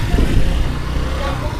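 A motorcycle engine is warming up, idling with a low, steady rumble that sits close by under nearby voices.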